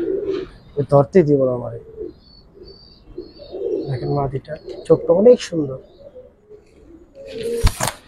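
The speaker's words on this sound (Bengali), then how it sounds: "দেখেন কবুতর" Giribaz pigeons coo close by in a loft, a few low rolling calls rising between stretches of someone speaking, with a sharp rustle at the end.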